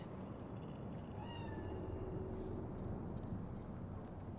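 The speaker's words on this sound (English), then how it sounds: "Fine-looking feline. Thought they'd all disappeared from the city." In the video game Cyberpunk, a cat in Night City gives a few soft, rising meows, faint against a low steady hum of city ambience, with no talk over it.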